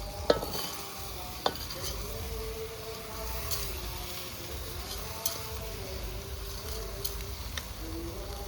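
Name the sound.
rice being stir-fried for khichdi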